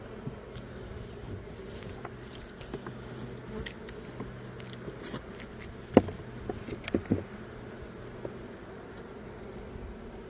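Honey bees buzz quietly around an open hive, a soft continuous drone with scattered brief clicks and knocks from handling the frames.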